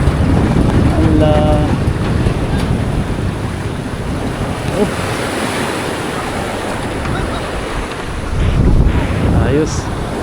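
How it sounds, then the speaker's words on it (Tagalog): Big sea waves roll and wash along the shore at Tanza, Cavite, a loud continuous surf roar buffeted by heavy wind noise, with a person speaking briefly over it. "Laki ng alon."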